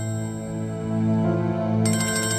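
A mobile phone rings with a steady melodic ringtone, loud and close, its bright electronic tones sustained throughout with a higher shimmering layer entering near the end; no one speaks.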